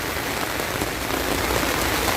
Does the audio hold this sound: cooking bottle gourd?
no